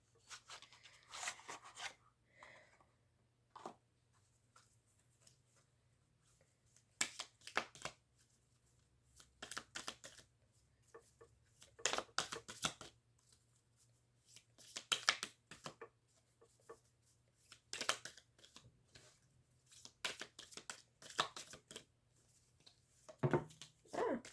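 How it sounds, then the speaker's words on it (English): Tarot cards are shuffled in repeated quick riffles and soft flicks, bursts coming in irregular clusters against a quiet room with a low hum. "I'm gonna shuffle you some of these cards here."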